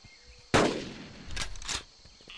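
A single sharp rifle shot in the hunting video game Carnivores Legacy, a loud crack with a brief ringing tail, followed by fainter mechanical clicks of the weapon.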